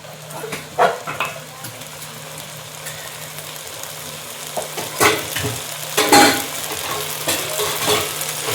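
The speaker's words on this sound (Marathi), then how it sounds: "हे असं हलक्या हातानं मिक्स करून घ्यायचं, जेणेकरून आपला तांदूळ अखंड राहील." Rice being gently stirred in a pan for a soybean pulao, soft scraping and stirring sounds with a few light clinks over a steady low background hum, no talking.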